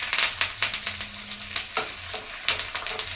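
Garlic, dried red chillies and curry leaves sizzle loudly in hot oil as a tempering for sambar, with a steady crackling hiss and repeated spattering bursts throughout.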